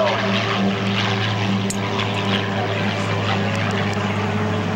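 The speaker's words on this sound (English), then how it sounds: "Oh, the sounds of the V-12." Deep, steady drone of a V-12 piston engine on a P-40 Warhawk at an airshow, running continuously, a low throbbing hum that holds constant throughout.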